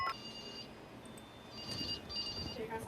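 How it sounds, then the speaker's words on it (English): A telephone rings in short repeated electronic bursts for an emergency fire report during a hospital code-red simulation, fairly faint against background noise and some voices. "Call 5555 and report the fire."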